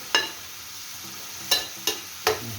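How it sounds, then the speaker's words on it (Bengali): Greens fry in mustard oil with a steady, close sizzle. A spatula clacks against the pan three or four times as they are turned. "শাকটা একটু সরিষার তেল দিয়ে ভাজা ভাজা করে নিচ্ছি"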